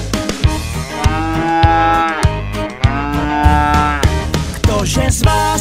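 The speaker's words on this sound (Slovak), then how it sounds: "krava robí mú mú." Long, drawn-out cow moos sound loudly within a cheerful Slovak children's song, repeating over steady music and a beat.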